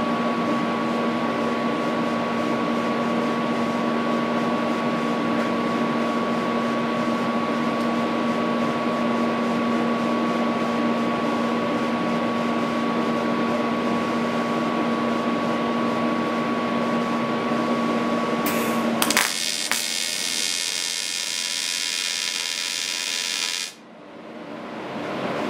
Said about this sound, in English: The fan's pretty loud, but not quite as loud as my old TIG 175.